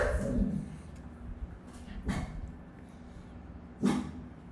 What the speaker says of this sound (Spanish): disculpen ahí mis perros